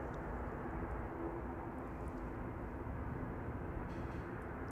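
An airliner departing Manchester Airport, a steady, distant broadband engine roar with a low hum, continuous and unchanging throughout.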